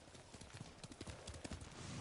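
A horse clip-clops in the video game Ghost of Tsushima, with a quick, steady run of hoof strikes, close and fairly loud against a dense wash of game ambience.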